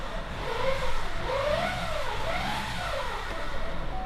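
A steady mechanical whine and hum from an idling second-generation Chevrolet Orlando diesel with about 151,000 km, its 6T45 automatic transmission in park, a faint rising and falling tone riding over a low engine drone.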